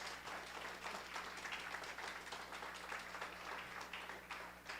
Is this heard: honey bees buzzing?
no